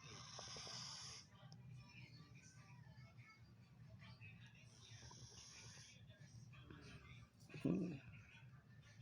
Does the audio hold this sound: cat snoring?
yes